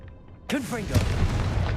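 Fire-blast Confringo spell from Hogwarts Legacy bursting in a loud booming explosion that follows a spoken incantation, with a rumbling, crackling tail as a voice talks over it.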